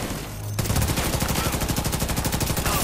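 Enemy turret gunfire in The Division 2: a sustained, rapid machine-gun burst with evenly spaced loud shots that continues without pause, kicking in sharply after a brief quieter lead-in.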